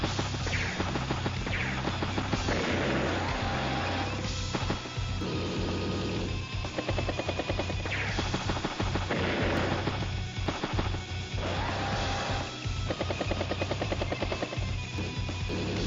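A battlecopter attacks in the Advance Wars: Days of Ruin game, its rotor whir and rapid machine-gun bursts repeating over a dense, loud wash of game music and effects throughout.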